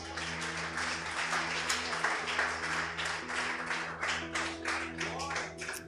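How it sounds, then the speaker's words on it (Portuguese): A church congregation claps during a sermon, a faint, steady patter of many hands under a sustained low hum, continuing evenly throughout. "Você pode aplaudir a Deus?"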